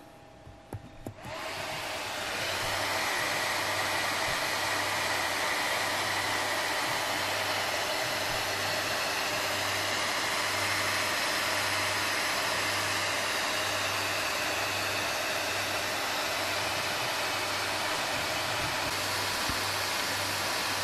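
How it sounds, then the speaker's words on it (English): A cooling fan in an MSI GP66 Leopard laptop spins up after a brief start, then runs as a steady, loud, broadband whoosh for about twenty seconds with no grinding. "The fan sounds normal now. You don't hear any grinding or weird noise from the fan."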